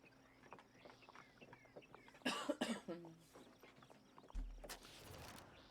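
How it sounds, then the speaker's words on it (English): A character in the Oregon Trail video game gives a short wheezing cough. Quiet game ambience with faint chirps and clicks comes before it, and a low thump follows. "Rachel lets out a wheezing cough."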